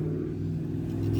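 A Mitsubishi Galant's engine runs steadily after a throttle cable repair, a close, loud, low hum with a strong rumbling tone held throughout, no voices.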